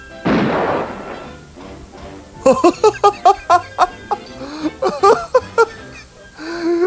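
Cartoon gunshots ring out in a rapid run of about a dozen sharp, evenly spaced pops, preceded by a dense noisy burst and followed by a short tonal tail, loud and close.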